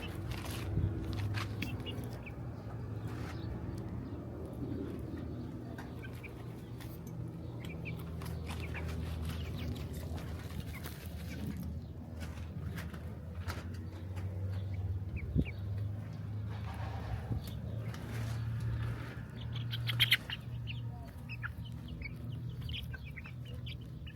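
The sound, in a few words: birds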